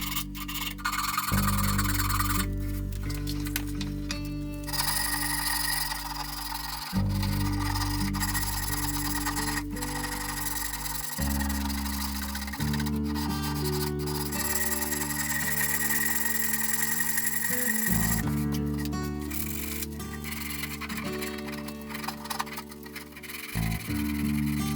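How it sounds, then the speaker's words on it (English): A wooden handsaw tote being sanded with 150 grit sandpaper glued to a paint stirring paddle: close, loud rasping strokes in a steady back-and-forth rhythm, broken by a few short pauses, with no talk. "This is 150 grit glued to a paint stirring paddle."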